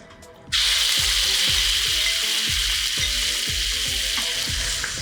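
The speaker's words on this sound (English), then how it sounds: "In goes the chicken." Chicken pieces dropped into a hot wok with oil burst into a loud, steady sizzle, with rhythmic scraping knocks of the spatula as the stir-frying goes on, close and with no talk.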